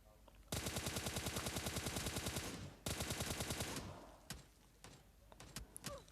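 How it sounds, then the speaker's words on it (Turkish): Enemy gunfire in the video game PUBG Mobile, a long rapid automatic burst followed by a second burst and a few scattered single shots, loud and close. "Adama bak incecik aradan bana sıkıyor."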